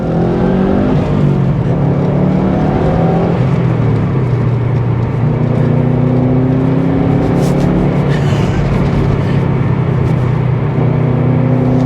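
A Subaru Impreza WRX STI Type UK with a 2.5-litre flat-four and all-wheel drive accelerates hard in second gear; its loud engine note climbs steadily in pitch and stays close, with no talking.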